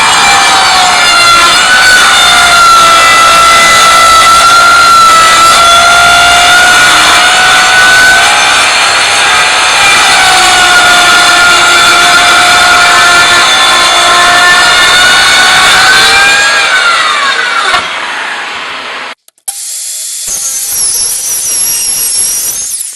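A power saw whines loudly and steadily as it cuts wood pieces into triangles in a workshop, a close sustained tone for most of the time before it cuts off abruptly near the end.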